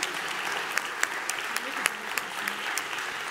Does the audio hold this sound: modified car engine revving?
no